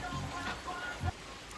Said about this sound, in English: I'm guessing it's not going to stop raining.